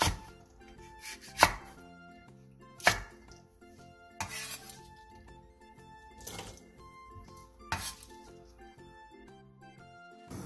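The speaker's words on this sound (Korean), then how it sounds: "청양고추 5개와 홍고추 3개도 한입 크기로 큼직하게 잘라주세요." A knife chopping onions and green and red chili peppers into large bite-size chunks on a cutting board, with sharp, irregularly spaced strikes standing out over soft background music and kitchen clatter.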